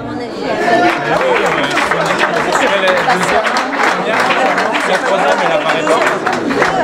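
Spectators at the finish of the 15 km Trail des Loupiottes run applaud the winner, a dense wash of clapping mixed with crowd chatter and voices, loud and sustained throughout.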